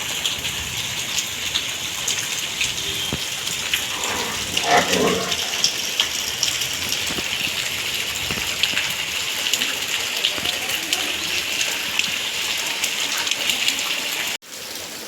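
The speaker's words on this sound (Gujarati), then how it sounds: "તો વરસાદ ચાલુ જ છે" Steady rain pours down in a dense, even hiss, with a brief clatter of water partway through and a sudden cut near the end.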